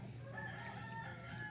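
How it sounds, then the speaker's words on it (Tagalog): A fighting cock crows at a home in Bicol, a faint, distant cock-a-doodle-doo heard under low background hiss. "yung manok ni Otol, pansabong"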